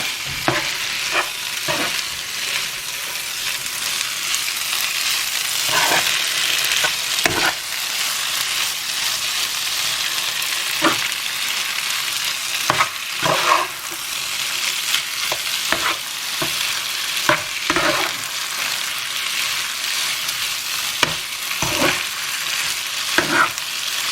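Walnut pasta tossed in a hot pan sizzles continuously while a utensil scrapes and taps the pan in frequent irregular strokes, close and fairly loud throughout.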